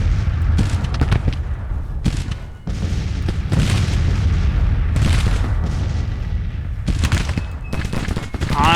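Civil War battle from the Grand Tactician strategy game at Chancellorsville: loud, continuous crackling musket fusillades mixed with deep booming artillery shots, dense and layered throughout with sharper volleys standing out.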